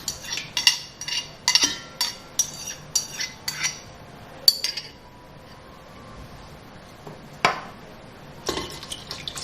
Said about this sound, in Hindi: इस तरह करके इसको ब्लेंड करेंगे।